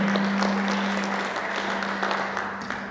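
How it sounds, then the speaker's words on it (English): A conference audience applauds after a presentation, steady dense clapping for about three seconds, fairly loud, with a constant low hum underneath. "Please let us clap for Madam Jane."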